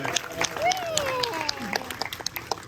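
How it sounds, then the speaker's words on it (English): Applause for a moonfish exhibit at Disneyland, a thin scattering of claps from a small crowd while a voice talks over it. "Round of applause for the moonfish."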